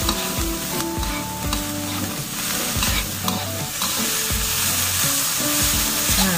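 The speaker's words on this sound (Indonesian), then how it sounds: "Kita aduk sampai udangnya juga berubah warna." Meat and shrimp fry in a pan as a utensil stirs them, making repeated rhythmic scraping and clanking over a constant close sizzle.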